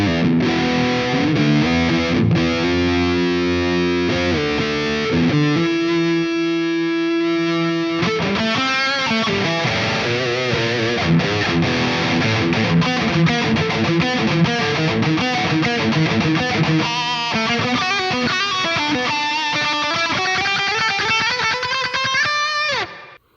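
Distorted electric guitar on a Jackson Dinky DK2XR, played on the bridge pickup through a reverb pedal, sounding loud and continuous with chords and fast riffs, no talking.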